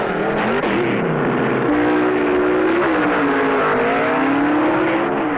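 Drag racing cars from the early 1970s, including Don Nicholson's Pinto, roar down the strip with loud, continuous engine howls whose pitch rises and shifts through gear changes.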